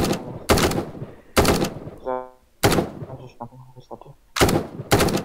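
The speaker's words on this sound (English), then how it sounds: "I'm being shot at" Gunfire in a Roblox PUBG match: several loud, sharp bursts of shots in separate clusters, with game sounds and a brief tonal effect between them.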